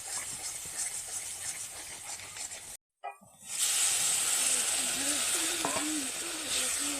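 Water poured into a pan of frying cumin powder spice paste for a snakehead fish curry, a sudden loud hiss bursting up after a short silence and settling into a sustained close sizzle.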